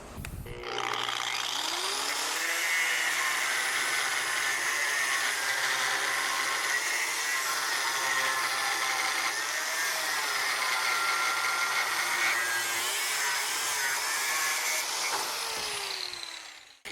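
An Einhell TE-AG125CE 1100W angle grinder with a thin disc cuts sheet metal in one loud, continuous, high-pitched grinding whine that holds steady for about sixteen seconds, then stops abruptly.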